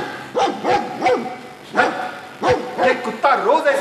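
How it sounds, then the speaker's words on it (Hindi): A dog barks loudly and repeatedly at an ear-splitting pitch during a Hindi stage play, with about six sharp, close barks spaced over a few seconds and nothing else heard between them. "ये कुत्ता रोज ऐसे कान फाड़ भोंकता है क्या?"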